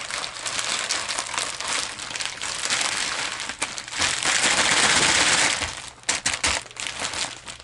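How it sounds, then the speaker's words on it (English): Soft plastic fishing lures being stuffed back into a plastic bag, producing continuous close crinkling and crumpling that swells in the middle and breaks into a few sharp rustles near the end. "Let's see if I can get it back in this bag."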